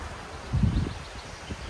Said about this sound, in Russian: Только сейчас обратил внимание, как качаются деревья от ветра.